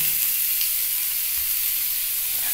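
Cabbage sizzles lightly in oil for veg momo filling, a steady close frying hiss with faint stirring movement, no voices.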